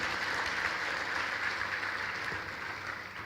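An audience at a university B.Tech orientation program gives a steady round of applause for a guest of honor, a continuous wash of clapping that eases slightly toward the end.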